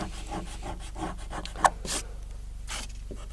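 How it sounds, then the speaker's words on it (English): An eraser rubs pencil lines off a paper guitar design, soft repeated scrubbing strokes in short bursts, faint and close, with a brief sharp tap midway. "So now we're just kind of erasing the lines that don't matter enough so I don't mistake them."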